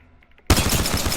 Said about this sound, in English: This gun, you can fire it a lot faster.